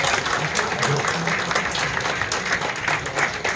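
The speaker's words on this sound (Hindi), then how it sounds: "आप लोग जोरदार तालियों के बीच" Loud, sustained applause from an audience at an honoring ceremony, dense clapping that stays full and even throughout, with voices murmuring underneath.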